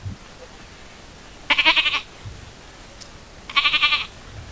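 A voice imitates a young goat's bleat during a religious lecture, giving two short, wavering, nasal bleats about two seconds apart against a quiet hall.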